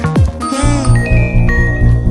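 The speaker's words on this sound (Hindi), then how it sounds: "देखो फोन तो आ गया उसका।" A mobile phone rings with an incoming call indoors, its electronic ringtone chiming in a steady repeating pattern of bright tones over a low musical background, with no talking.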